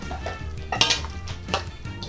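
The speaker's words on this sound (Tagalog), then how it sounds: "At hahaluin nyo lang po" Adobong pusit with basil leaves stirred in a pan on the stove, a spoon clattering against the metal in a few sharp scrapes and knocks over a low background hum.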